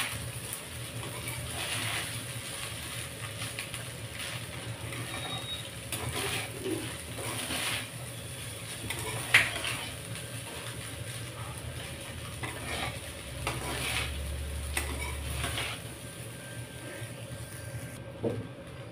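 A spatula stirs Schezwan fried rice in a hot pan, a steady scraping and soft sizzle running throughout with brief louder scrapes, no talking.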